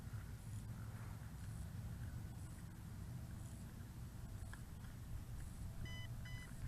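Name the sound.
Holystone HS720G drone compass calibration beeps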